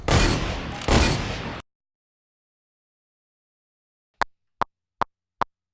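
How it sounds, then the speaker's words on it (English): Fortnite gun loading and shooting sounds sampled for a trap beat: a loud, noisy loading burst lasting about a second and a half, then silence, then five sharp, evenly spaced shots in quick succession. "So I got a loading sound from my son playing Fortnite and then the shooting sound as well"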